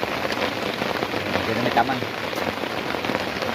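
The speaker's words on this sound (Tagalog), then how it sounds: "nag-ulan na dyan" Steady rain pours in the countryside at night, a dense, even hiss filling the whole stretch, with someone speaking briefly over it.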